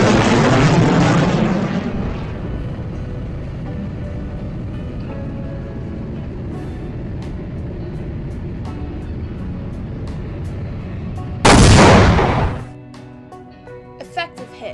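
Animated missile launch and strike in a game-style scene: a loud whooshing launch rumble, a steady roaring flight, then a sharp bright explosion burst near the end before quieter debris rattles.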